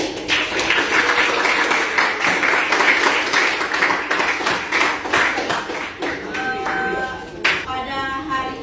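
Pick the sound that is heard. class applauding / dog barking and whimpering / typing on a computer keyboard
class applauding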